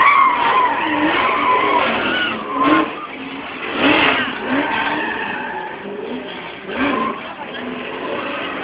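Tires squeal and screech repeatedly as a drift car slides sideways on the handbrake at a drift show, with engine revving underneath and a few louder skid bursts.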